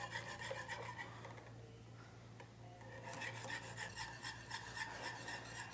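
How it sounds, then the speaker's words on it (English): A whisk scrapes steadily around a pot of heating cream, making continuous close rasping and rubbing strokes that carry on without pause beneath a low steady hum. "you're going to whisk pretty constantly because it'll start to stick on the bottom on you if you don't"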